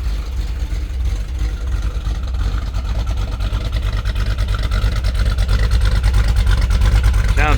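A 1967 Shelby GT350's V8 engine runs loudly and steadily, its deep throbbing rumble holding throughout with a slight rise toward the end.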